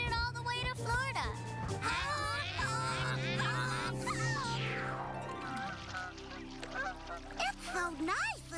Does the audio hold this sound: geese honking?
yes